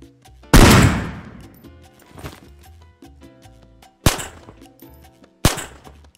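Barrett rifle gunshots in the video game Ghosts of Tabor: one loud, booming shot with a long decaying tail, followed later by two more sharp, separate reports, each standing alone without talk.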